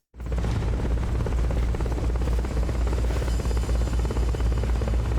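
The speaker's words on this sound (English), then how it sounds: "Forget about the chopper for now." In the Metal Gear Solid: Peace Walker video game, a helicopter gives a loud, continuous rotor thrum and engine roar that starts abruptly and holds steady throughout, with no speech.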